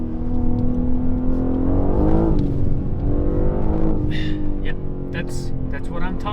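A BMW M3 Competition G80 in rear-wheel drive mode on a mountain drive revs hard past 4,000 RPM, a loud, sustained engine roar whose pitch sweeps up and down in waves.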